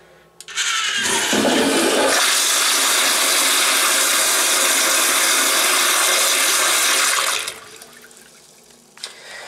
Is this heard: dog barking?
no